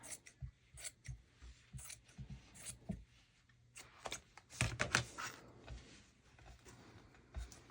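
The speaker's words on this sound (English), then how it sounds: "And now I'm just going to cut down this folded edge." Scissors snip through a folded fabric edge for a soft journal cover, a series of quiet, close cutting crunches and rustles in irregular bursts, with a louder cluster of cuts near the middle.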